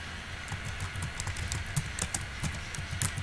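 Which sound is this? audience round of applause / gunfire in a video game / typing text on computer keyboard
typing text on computer keyboard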